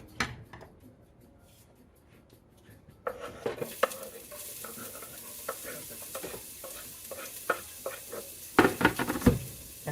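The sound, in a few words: ground beef and onion sizzling in a hot pan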